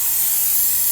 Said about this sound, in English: Using some brake parts cleaner,